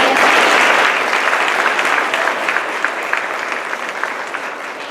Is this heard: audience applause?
yes